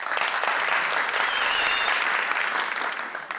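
Studio audience on a Persian-language Family Feud game show applauding, a dense, steady wash of clapping that holds loud throughout and tapers slightly at the end.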